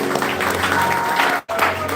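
A burst of audience applause for army soldiers from unit 122 at a Christmas celebration, dense clapping from a crowd with a momentary drop-out before it resumes.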